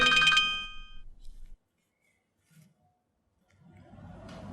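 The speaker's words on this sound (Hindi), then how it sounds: "सलमा भाभी का फोन है।" A mobile phone ringtone plays loudly in a drama scene, a bright repeating melodic tone that sounds for about a second and a half and then stops, leaving near silence and a faint low rumble.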